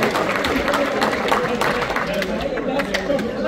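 An audience at an Urdu celebration event in Dubai claps steadily, a dense, continuous patter of applause with crowd chatter mixed in.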